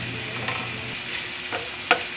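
Vegetables with ridge gourd and green chili being stirred as they fry in a pan, a steady close sizzle with a few distinct scraping strokes of the spoon, one sharper clack near the end.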